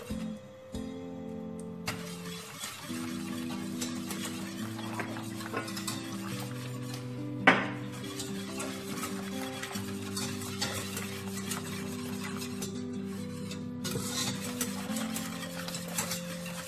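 A spoon or whisk stirs gelatin into a hot chocolate mousse mixture in a pan, making soft continuous scraping and swirling with one sharper knock, over steady background music.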